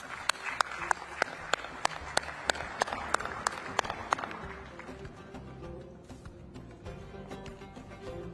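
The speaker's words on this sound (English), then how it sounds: "Round of applause, please." Audience applause in a conference hall at a climate summit event, scattered clapping alongside a run of sharp, evenly spaced loud claps that fade out midway, leaving a quieter room murmur.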